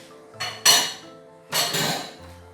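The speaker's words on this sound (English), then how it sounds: "now you have to keep stirring the mixture" Two bursts of metal clatter from a spoon scraping and knocking around a pan while Tirunelveli halwa mixture is stirred, close and fairly loud, with quiet gaps between.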